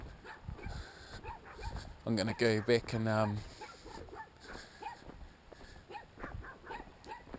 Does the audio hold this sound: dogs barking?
yes